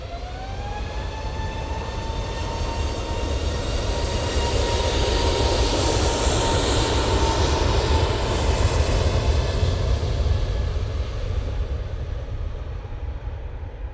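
An easyJet jet airliner departs Manchester Airport for Gibraltar, its engines a loud, sustained roar with a rising whine, close and building as it climbs away, with no talk.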